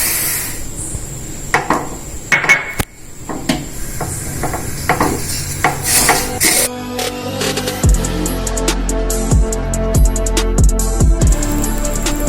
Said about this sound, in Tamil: இப்போ வெறும் கடாயில இந்த எள்ளை போட்டு நல்லா வறுத்து எடுக்க போறோம்